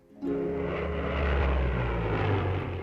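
Rolls-Royce Merlin-type aircraft piston engine running, starting abruptly into a deep, loud, steady droning roar with a throbbing low rumble that holds without a break, heard close with no talking.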